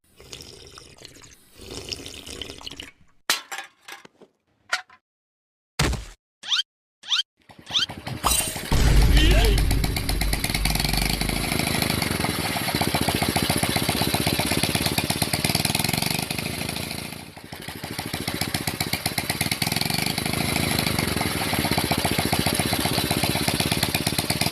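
An aging motorcycle engine runs steadily and loudly after a few broken starts, its mid-range drone continuous with a brief dip partway through, and a voice speaking over it.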